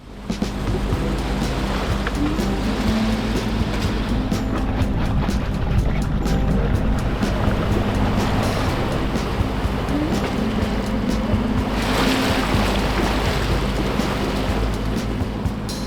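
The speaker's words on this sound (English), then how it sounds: "The water at the gate is turbulent" Loud, continuous rush of churning water against a sailboat hull in the turbulent tidal current at Hell's Gate, with a steady engine drone beneath and a surge of splashing spray near the end.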